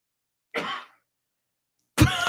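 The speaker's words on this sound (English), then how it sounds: "Been coughing all day." A person coughs twice, close to the microphone: one short cough, a pause of over a second, then a louder, harsher cough.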